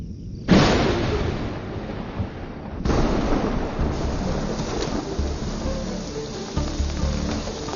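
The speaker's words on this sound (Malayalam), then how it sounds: "ഇവിടെ നല്ല മഴ, ഒന്നും കേൾക്കുന്നില്ല" Steady heavy rain roars throughout, with a sudden loud thunder crack near the start and another burst of downpour a couple of seconds later.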